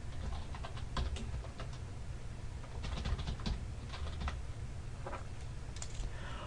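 Account details are typed on a computer keyboard, a close run of light, irregular key clicks with occasional sharper taps over a low steady room hum, with no voices.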